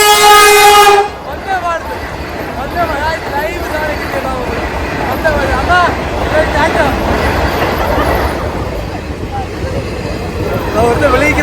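A train approaches near a beach, its horn sounding one long loud blast at the start, followed by a steady rumbling roll of wheels and carriages passing close by.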